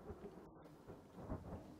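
Thunder from a lightning strike in the survival game The Forest rolls as a faint, low rumble that swells near the end, with rain-like hiss throughout.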